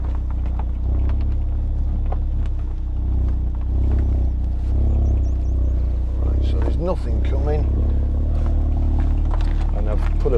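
A 2017 Audi TTS 2.0 TFSI Black Edition S tronic quattro drives with a steady low engine and exhaust drone, heard loud and close throughout with road and wind rumble, while someone talks over it.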